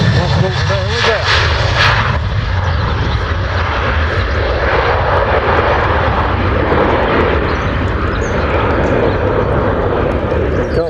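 A Boeing 777 or 747-400 cargo freighter takes off with a loud, sustained jet engine roar that fills the clip. People talk over the noise.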